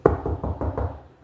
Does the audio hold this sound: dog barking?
no